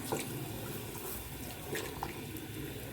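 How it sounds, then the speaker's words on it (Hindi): Water runs steadily into a cooking pot while Bannu-style KPK masala chicken pulao is made: a continuous, even splashing wash with no talking. "इसमें मैं इतना पानी डालूँगी जो पुलाव के लिए काफ़ी होता है।"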